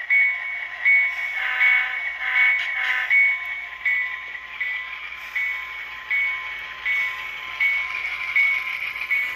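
An HO scale model train running on a layout with its sound decoder playing a continuous steady rumble and hum, overlaid by a sustained tonal whistle-like drone, with a few fluttering variations along the way.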